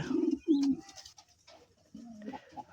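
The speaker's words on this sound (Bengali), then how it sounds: "তো চলে এলাম আবার আমার বাড়ির ছাদে পায়রা ঘরে" Domestic pigeons coo in a rooftop pigeon loft, with a few close, throaty coos in separate bursts and quiet gaps between them.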